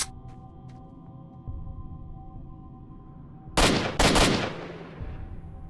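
Gunfire in STALKER: Shadow of Chernobyl: two sharp, loud shots close together, with faint distant pops and low ambient hum around them.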